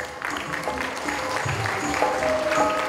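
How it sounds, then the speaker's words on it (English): A large audience claps continuously at the opening of the Asia Africa Smart City Summit, a steady wash of applause filling the hall with faint tonal hum and background murmur beneath. "Can we have another big round of applause,"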